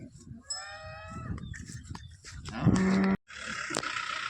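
Cattle bound for Narayanganj moo loudly several times at close range while being loaded onto a vehicle, deep drawn-out calls with background bustle and clatter.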